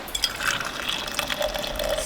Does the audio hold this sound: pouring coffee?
yes